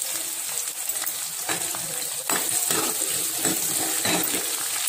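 Chopped onions hit hot oil with fried garlic for an eggplant curry, setting off a steady broadband hiss of sizzling with small bursts as they settle into the pan.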